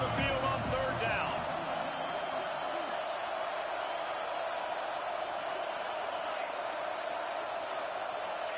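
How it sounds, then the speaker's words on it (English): A home football crowd roars steadily as the defense faces third down against Tennessee. The broad, sustained noise sits under a commentator's voice. "Here comes this home crowd as the defense tries to get off the field on 3rd down."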